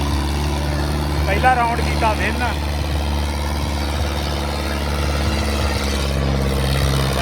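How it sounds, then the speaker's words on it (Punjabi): A tractor engine, a New Holland 850 or Massey 265, drones steadily through a disc-ploughing competition, its low harmonic rumble constant throughout while someone speaks over it for a few seconds. "ਰਾਉਂਡ ਤੇ ਆ ਗਿਆ ਟਰੈਕਟਰ"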